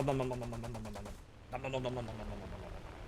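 Machine gunners in a trench fire in War Thunder, rapid rhythmic bursts of fairly faint automatic fire with a short break in the middle, mixed with steady engine drone and talk over it.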